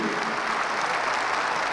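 Dense, steady applause from a gala premiere audience for a documentary about Erciyes, Cappadocia, with continuous loud clapping that fills the whole moment.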